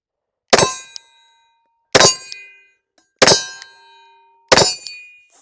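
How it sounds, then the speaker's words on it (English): Four loud gunshots from a Glock 29 10mm pistol strike a steel target, each a sharp crack with a ringing metallic clang that decays over about a second, spaced evenly apart with no talking. "Glock 29 chambered in 10 millimeter."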